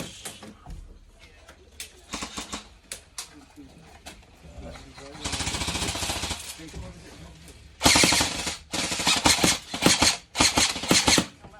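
Airsoft guns fire in rapid bursts during a game inside a bus, some shots faint and others loud and close, with people talking between the volleys.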